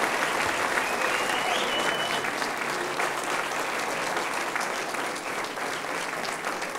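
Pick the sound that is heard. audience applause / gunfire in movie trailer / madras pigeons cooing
audience applause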